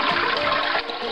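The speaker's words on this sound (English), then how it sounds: "And I'll flush this baby." A toilet flushes with its water supply valve shut off during a leak repair: a steady, loud rushing swirl of water, close by, that eases slightly near the end.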